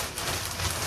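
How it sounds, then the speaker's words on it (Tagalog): Heavy rain falls in the UK, a dense, even hiss of drops beating on surfaces close by, with no voices over it. "saka din lumakas yung ulan"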